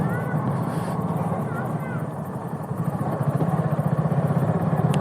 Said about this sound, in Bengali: এখানে আসলে মোটরসাইকেল জোরে চালানোর কোনো স্কোপই নাই।